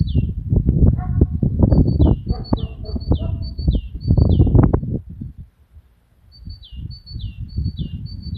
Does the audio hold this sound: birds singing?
yes